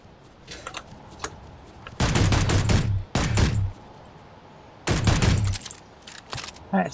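Pistol shots in a video game come in loud, close bursts of rapid cracks, one cluster followed by a second shorter one, then a pause and a third burst, with quieter scattered clicks between.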